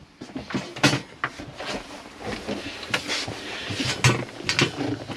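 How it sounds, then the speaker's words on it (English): A drawer in the kitchen of an Auto Sleeper Kemerton XL motorhome opens with a few sharp clatters and thumps, close by, with light rattling and knocks like cutlery or cupboard fittings in between. "A drawer so you can get a cutlery tray to go in there."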